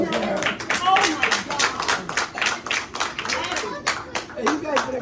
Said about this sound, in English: Give Natalie and Nemo a nice round of applause there.